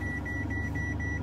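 Car seatbelt warning chime repeating as a steady, evenly spaced series of short beeps over low cabin rumble, with no talking.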